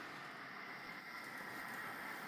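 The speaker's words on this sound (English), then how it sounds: "we have the coal train coming." A coal train runs on an N scale model railroad, giving a faint, steady, continuous rolling hum with no breaks and no talk.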